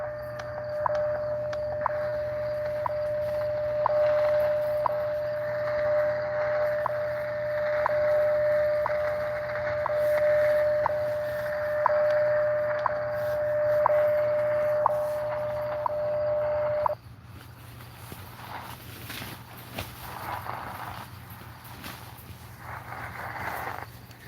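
WWV time station from Fort Collins, Colorado, received on radio: a steady pure tone with a faint tick every second, running over a hiss of static until it cuts off, leaving only noisy radio crackle.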